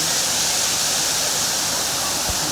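Bilawa Falls at Maco, Davao de Oro pours in a loud, steady roar of rushing water that fills the whole stretch, a close and unbroken wash of sound.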